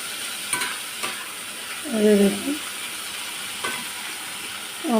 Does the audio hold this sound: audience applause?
no